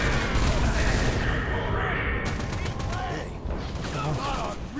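Battle rifle fire in the video game Halo Reach comes as a dense, loud, continuous barrage of shots and booms, with a voice briefly heard over the game audio.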